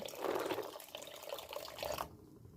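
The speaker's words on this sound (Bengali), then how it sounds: "আমি 1 কাপের মতন দুধ অ্যাড করব, এটা ফুটিয়ে রেখেছিলাম আগে থেকেই দুধটা।" About a cup of pre-boiled milk is poured steadily into papaya payesh in a cooking pot, a close, continuous liquid pour lasting about two seconds before stopping.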